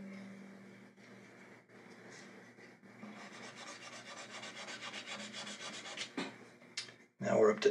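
Micro mesh pads of 6,000 grit rub across a guitar's lacquer finish during ding repair, a close, steady rasping in back-and-forth strokes, ending with a louder handling clatter.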